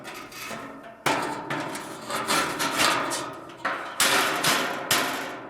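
A hammer bangs on a trailer under restoration, with several loud, close blows spaced unevenly and each followed by a ringing rattle.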